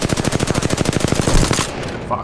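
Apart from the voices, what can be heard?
gunshots in a video game battle royale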